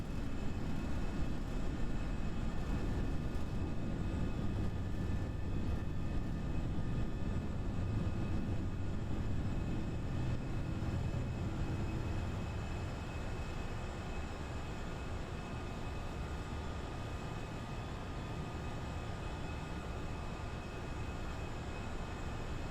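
FSLabs A320 jet engines at climb power just after takeoff in a flight simulator, a steady loud rumbling roar with a constant high whine running continuously throughout.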